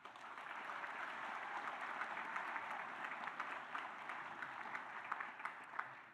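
A commencement crowd at Kapiʻolani Community College's spring 2025 ceremony gives sustained applause, heard as a fairly distant, even wash of many hands clapping for about six seconds, with a few sharper claps near the end.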